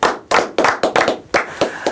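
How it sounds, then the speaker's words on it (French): A small audience claps for an award winner, a short run of about eight distinct, loud hand claps spaced unevenly, close by and with no talking. "on va, pour ne pas oublier, applaudir notre lauréat"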